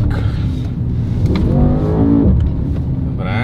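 Mercedes-AMG GT 63 S E Performance plug-in hybrid accelerating hard, a steady low rumbling drone with rising tonal whine from inside the cabin, continuous throughout with faint voices underneath.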